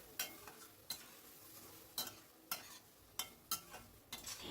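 Spice paste stirred in a frying pan, a spatula scraping the metal in regular strokes every half second or so over a soft, steady sizzle, close and fairly quiet.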